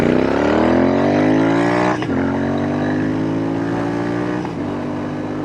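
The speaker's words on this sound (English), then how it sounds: "I'm caught by the way she sounds. Those pipes are fabulous. Listen to this." A Royal Enfield Interceptor 650 motorcycle revs through its exhaust pipes nearby, rising loudly in pitch through two gear changes with short dips between them.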